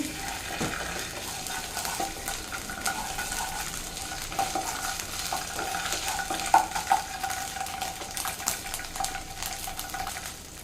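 Ginger garlic paste being stirred in a frying pan for paneer rice, a steady low sizzle with soft scraping of a spoon against the pan, a few faint clinks, and no talking.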